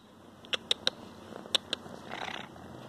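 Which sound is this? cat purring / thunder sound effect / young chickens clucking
cat purring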